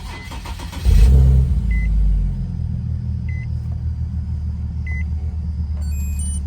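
A 2008 Infiniti G37 coupe engine fires up via push-button start: a brief starter crank, then a loud rumbling catch that settles into a steady, smooth idle, with faint interior chimes beeping at intervals.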